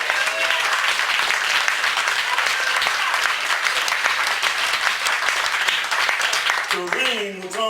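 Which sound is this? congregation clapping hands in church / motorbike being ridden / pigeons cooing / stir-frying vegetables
congregation clapping hands in church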